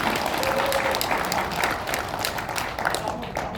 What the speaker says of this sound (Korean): 우리 젊은 청년 정청조 박사님을 위해서 큰 박수를 쳐주시면 되네요